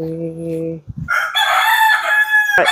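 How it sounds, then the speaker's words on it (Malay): A black rooster crows in a rice-paddy park in Langkawi, Kedah, Malaysia: a loud, near, drawn-out call with bright tones, following a brief lower harmonic sound. "ayam tu ni hitam"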